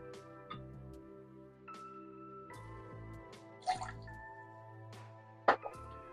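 Fresh lime juice is poured for a cranberry and tequila cocktail, giving a few short liquid drips and splashes over soft, steady background music.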